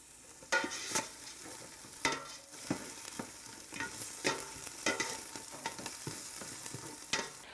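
Scallions sizzle in butter in a pan with a steady frying hiss, broken by a series of sharp stirring scrapes and knocks from a utensil at close range, with no voices.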